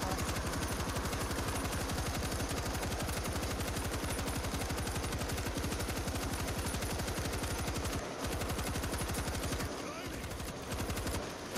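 Sustained automatic gunfire from the co-op zombie shooter World War Z Aftermath, rapid loud bursts firing nearly nonstop with brief gaps near the end, players' voices mixed underneath.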